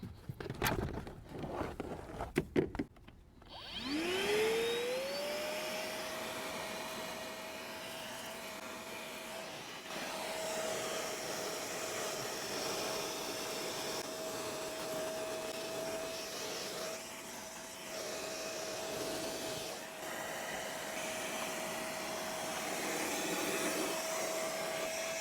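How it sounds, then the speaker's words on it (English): A shop vac starts up after some handling clatter and runs steadily while vacuuming a filthy Mustang back seat, its loud whine holding one pitch with slight dips as the nozzle moves, and no talking. "what better way to test the vacuum than in a real-world scenario of getting a filthy car clean?"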